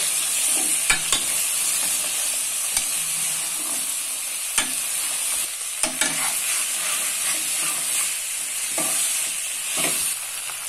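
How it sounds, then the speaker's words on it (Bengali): Cut potatoes and flat beans sautéed in a pan for a fish curry with tomato, giving a steady close sizzle broken by scattered scrapes and knocks of a spoon stirring against the pan. "এখন অ্যাড করব আগে থেকে কেটে রাখা আলু ও সিম। এগুলো ভালোভাবে কষিয়ে নেব।"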